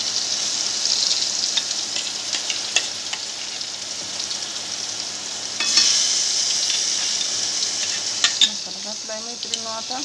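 Masala spices frying and being stirred in a pan for chickpea chole curry, a steady close sizzle with scattered scraping stirs, no talking.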